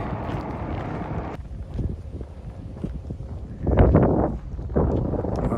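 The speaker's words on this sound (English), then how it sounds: "It's quite windy." Wind gusts roar across the microphone beside a road near White Pass on the Pacific Crest Trail, steady and loud with heavier buffeting bursts toward the end.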